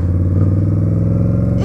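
An Indian Scout cruiser motorcycle engine idling close by, a loud, steady low rumbling thump with even rhythm, ending with a brief rise.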